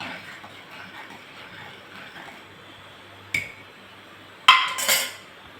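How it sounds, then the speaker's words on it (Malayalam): A spoon stirs cooked dal into a pot of drumstick (muringakka) curry for elisseri, giving soft scraping and a couple of sharp metal clinks against the pot near the end, with no talk. "അതിലേക്ക് നമുക്ക് വേവിച്ച് വെച്ച പരിപ്പ് ചേർക്കാം. നല്ലപോലെ ഒന്ന് ഇളക്കി വയ്ക്കാം."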